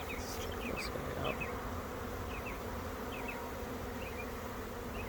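Honey bees buzz around an opened hive while a beekeeper moves bees and brood frames into a split, a steady close insect drone with individual bees zipping past throughout, no talking.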